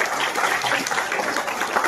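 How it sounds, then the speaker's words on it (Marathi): Audience clapping for girls' prize winners at a cycling event's costume contest, a steady, dense patter of many hands at moderate distance, continuous for the whole stretch. "जरा टाळ्या वाजवायला मुलींना पण मदत करू."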